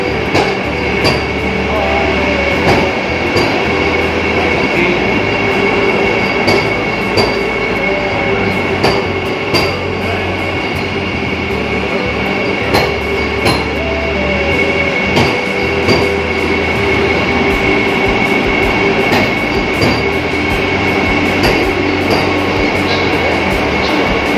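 A passenger train rumbles along steadily with rhythmic clacking, metallic squeals and rattles, loud and close, as if heard from inside a carriage.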